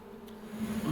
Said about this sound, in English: Bunch of bees on the board